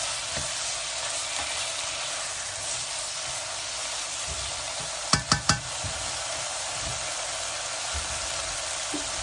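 Peas and mixed vegetables fry in a pan with a steady, close sizzle, broken midway by three quick clinks of a utensil as they are stirred.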